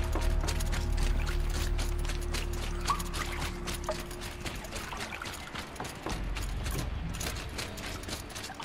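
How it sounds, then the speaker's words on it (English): Water drains from a dam in Horizon Zero Dawn: The Frozen Wilds, a steady rushing pour with mechanical clanks and ratcheting over it, continuous at a moderate level. "We drained enough water for what we need to do, but I wonder if I could empty out the whole dam"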